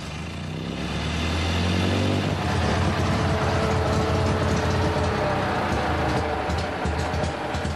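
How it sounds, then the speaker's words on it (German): A 1914 Adler Torpedo vintage car engine cranks with a hard pull, catches, and settles into a loud, steady, slightly uneven idle with a throbbing low rumble, close by and without speech. "mit einem kräftigen Ruck den Motor anwerfen"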